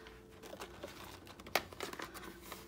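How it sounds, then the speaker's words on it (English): Paper cash is slipped into a paper envelope, giving soft, quiet crinkles and rustles with a few sharper crackles near the middle, heard close and alone. "I'm gonna go ahead and put it inside of this envelope here."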